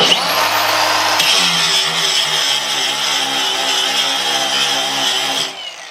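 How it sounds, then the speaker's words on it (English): Milwaukee cordless angle grinder spinning at full power, a loud high-pitched whine held steady for several seconds before winding down at the end, with no voices. "this grinder also has quite a bit of power"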